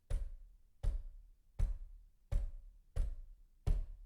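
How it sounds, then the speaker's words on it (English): Six slow, evenly spaced knocks land on a hard surface late at night, each a dull thud with a short tail, the sequence steady and unhurried in an otherwise quiet room. "I heard a knocking, a slow, constant one."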